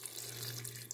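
Water running steadily from a tap into a rice cooker pot, to be used for boiling pig feet with lemongrass and salt, a quiet, close, continuous splashing stream with no talk.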